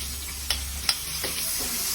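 Garlic and onion sauté in oil left over from frying bitter gourd, a close, steady sizzle broken by two or three sharp clicks of ingredients hitting the pan.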